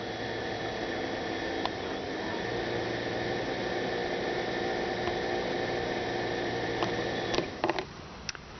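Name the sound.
Prius coolant pump running while bleeding air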